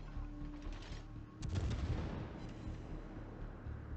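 Naval gun salvos in World of Warships, from the Saint-Louis cruiser battle, with a sharp heavy boom landing midway and a low rumbling roll trailing off behind it over a steady background drone.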